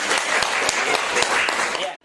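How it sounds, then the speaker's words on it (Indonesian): An audience at an education outreach session about a learning platform claps steadily and densely for about two seconds before the applause cuts off abruptly. "Tepuk tangan Bapak Ibu"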